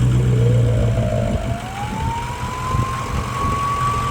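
A truck with an open bed-stack exhaust drives down a driveway, its engine droning steadily with a rising whine as it speeds up, loud and close throughout.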